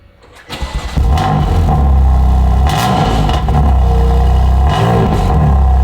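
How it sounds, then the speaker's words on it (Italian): A BMW M2 CS engine fires up and settles into a loud, deep, rumbling idle with a raw unmuffled straight-pipe exhaust note and a couple of brief revs. "per sentire un po' com'è questo scaricozzo completamente dritto"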